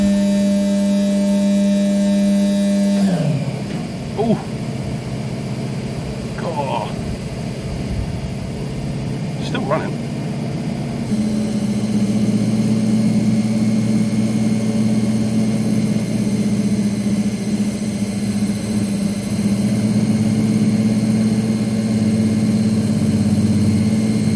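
An overvolted electric motor runs with a steady whine that drops in pitch a few seconds in, then strains and labours unevenly with rough bursts before settling into a louder, harsher hum.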